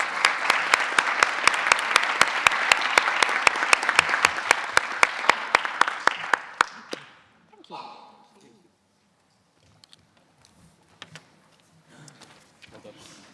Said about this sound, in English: Please join me in giving them a great big round of applause.